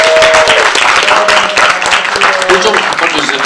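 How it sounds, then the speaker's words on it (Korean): Audience applause welcoming an honored guest at a Korean art song memorial concert in Daegu, a steady dense clapping filling the whole stretch with voices and a tonal sound over it. "우리 큰 박수로 환영해 주시기 바랍니다."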